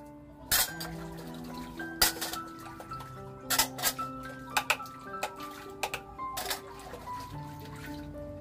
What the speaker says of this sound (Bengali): আর এই তো এবার সব বাসন কুসনগুলো মেজে ধুয়ে নেব।